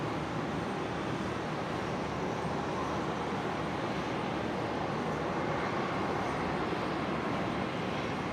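A Singapore Airlines Airbus A350 taxiing toward runway 19 right for departure at Brisbane airport, a fairly faint, steady engine rumble and hiss from a distance, continuous and unchanging, with no voices.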